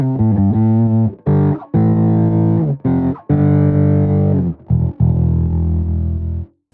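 Bass guitar through Clawthorn overdrive with no EQ, loud fuzzy notes with a bright, buzzy top end, played as a series of short phrases and held notes with gaps between them, no talking.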